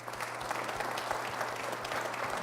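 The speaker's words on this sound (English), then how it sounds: "So please join me in giving him a round of applause, Senator and Governor Bob Graham." An audience at a public speaking event claps steadily, a dense, even patter of many hands that fills the short stretch without pause.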